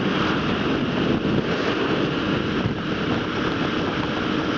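Strong wind roars steadily and loudly against a motorbike rider in New Zealand, a dense broadband buffeting that fills the whole stretch with no let-up and no talking.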